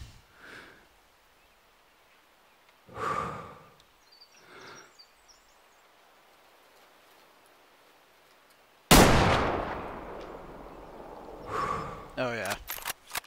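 A single loud, sharp rifle shot fired at a mule deer in the hunting game Way of the Hunter, with a booming decay. Quieter sounds and soft talk come before it, and more talk follows.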